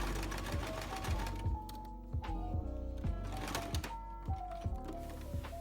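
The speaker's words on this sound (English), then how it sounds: "you're going to do a straight stitch down where you pinned to connect everything." A sewing machine runs a straight stitch through scrap denim, with rapid mechanical needle thumps and a whirring motor. It pauses briefly and starts again, close and fairly loud.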